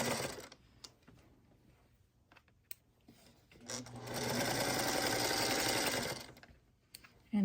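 A sewing machine stitches quilt block pieces, a small square joined to a strip with a quarter-inch seam; after a few brief clicks and handling sounds it runs in one steady, close, whirring burst of about two and a half seconds.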